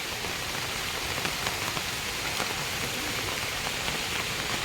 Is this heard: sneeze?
no